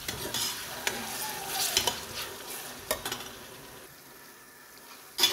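Onions frying with ginger garlic paste in a pan for mutton biryani, a steady close sizzle broken by a few stirring scrapes and clinks, no voices.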